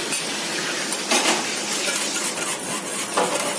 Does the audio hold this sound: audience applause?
no